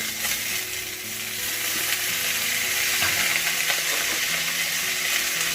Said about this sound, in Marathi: तर आता आपण हे शेंगा आहेत ना तेलात तळून घ्यायच्या आहेत